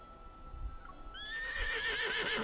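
A horse neighs loudly in the game Love and Deepspace, its long wavering whinny rising in pitch and shaking, near and clear after a soft lead-in of faint hoof sounds.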